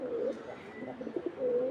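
Pigeons give soft, close, rolling coos, one call at the start and another near the end, with quieter murmuring between.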